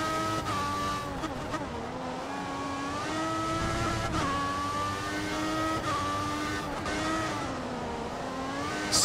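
A Formula 1 Force India race car in the F1 2014 game at Sochi, its engine screaming continuously with repeated rises and falls as it shifts gears, loud and close, no voices.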